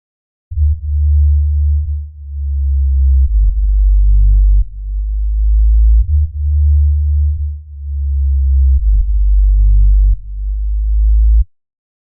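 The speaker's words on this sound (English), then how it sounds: "basically reverb from the first note, from the first sub-bass note" A deep sub-bass synth note with reverb plays alone, long and loud. It is sustained and steady, with slight pulsing swells that repeat about every three seconds, and it cuts off cleanly at the end.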